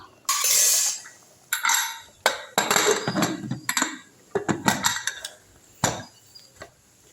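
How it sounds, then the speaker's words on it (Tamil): A series of metallic clanks and scrapes, close and sharp, as a pressure cooker lid is fitted and locked shut in several separate knocks. "இப்போ வந்து குக்கர் க்ளோஸ் பண்ணிடலாம்"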